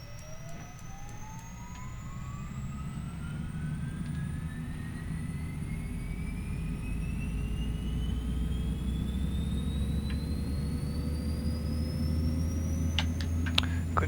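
Aircraft engine number 2 spools up during a start in a flight simulator game, a rising turbine whine climbing steadily in pitch over a constant low rumble, with faint clicks near the end.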